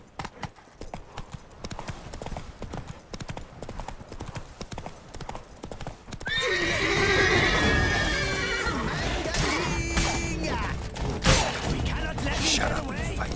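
Roach, the horse in The Witcher 3: Wild Hunt on PC, gallops with steady hoof clip-clops, then lets out a loud, near whinny halfway through over a dense game soundscape with thuds.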